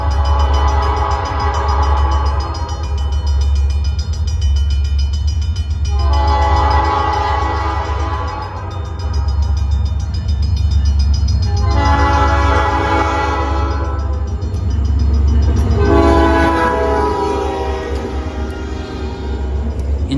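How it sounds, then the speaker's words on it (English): Quebec-Gatineau Railway SD40-3 locomotive #6904 blows its Nathan P5 horn in about four long, loud chord blasts, separated by short gaps over a steady low diesel rumble. "the locomotive would acquire its now iconic and unmistakable Nathan P5"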